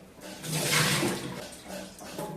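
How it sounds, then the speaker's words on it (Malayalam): Water is poured into a pot for boiling tapioca, a gushing splash that swells and then tapers into softer trickles, close by and alone. "കുറച്ച് വെള്ളം ഒഴിക്കാം"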